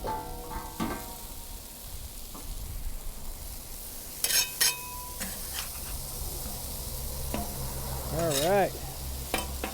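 Pupusas cooking on a Cuisinart 360 XL griddle give a steady, close sizzle and hiss that runs the whole time, with a few clinks and scrapes and brief talk over it.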